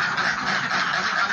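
Ducks on a small farm flock of about fifty birds quack loudly and continuously, a dense overlapping honking chorus close by with no talking.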